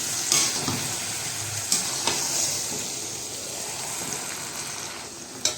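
Vegetable curry sizzles in hot oil in a pan as it is stirred, giving a steady close frying hiss with a few sharp scraping clicks of the spoon.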